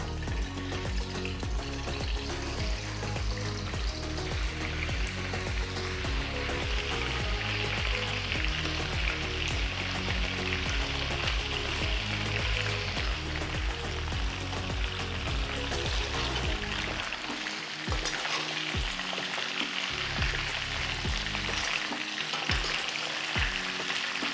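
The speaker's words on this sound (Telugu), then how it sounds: "ఉడికించిన చికెన్ పీసెస్ని కడాయిలో వేసి ఇలా గోల్డెన్ బ్రౌన్ రంగులోకి మారేంత వరకు వేయించాలి" Boiled chicken pieces fry in oil in a kadai, giving a steady, loud, dense sizzle that runs throughout, with a few stirring clatters near the end and no voices.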